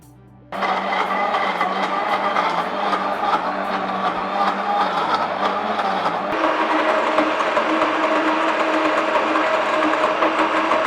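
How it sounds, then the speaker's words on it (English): A HOMGEEK countertop blender whirs steadily at full power while crushing ice, starting abruptly after a quiet moment, with a sustained loud motor drone and a gritty, churning grind that shifts pitch partway through. "Just in about 30 seconds I will start with the ice crush."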